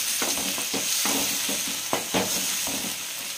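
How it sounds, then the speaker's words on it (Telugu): Curry leaves, green chillies and tomato get stirred in a hot pan, with bursts of scraping and frying sizzle repeating over a steady hiss. "ఇవన్నీ వేసుకొని ఒకసారి కలుపుకోవాలి"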